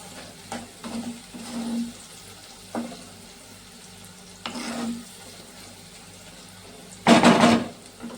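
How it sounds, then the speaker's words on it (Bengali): Chowmein noodles are stir-fried in a pan, with short bursts of scraping and sizzling spaced through the clip and a louder, brighter clatter of tossing near the end. "তাও একটু জোরে করে একটু ভাজা ভাজা করে এবার চাউমিনটা অ্যাড করে দেবো এর মধ্যে।"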